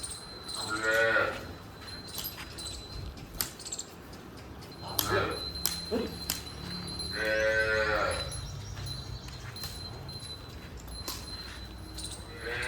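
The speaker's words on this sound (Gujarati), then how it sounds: "ત્યાં જો આ રોજીની વાછડી છે એ રાડું દેવા માંડી" A calf bellows loudly in a few drawn-out calls, spaced apart, with some outdoor noise and distant voices in between.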